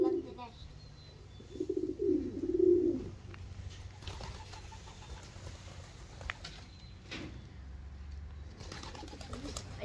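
Racing homer pigeons cooing near a nest, a few soft throaty coos in the first seconds followed by faint rustling and wing patter, with a person talking quietly at times.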